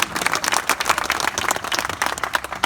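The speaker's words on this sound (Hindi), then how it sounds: "आप सब तालियां बजाकर आशीर्वाद दे दो एक बार।" Audience at a Hindi poetry recital clapping together, a steady patter of many hands at moderate distance with no voices over it.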